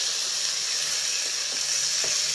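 Green garlic sizzles in a frying pan with a continuous, close, fairly loud frying hiss that stays even throughout, no voices.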